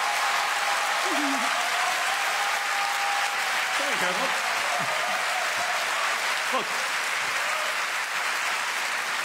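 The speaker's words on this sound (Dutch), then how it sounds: "geef ze een warm, dankbaar applaus" An awards-show audience gives a warm round of applause for the technicians and volunteers at an amateur musical awards night, a loud, continuous wall of clapping throughout, with a few brief spoken words and voices rising faintly above it.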